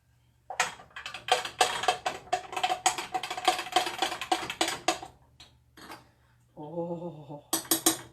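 A spoon scrapes and clinks around a pot of plum pudding in a quick, irregular rhythm, close and fairly loud, with a short pause and a brief hum before the stirring resumes.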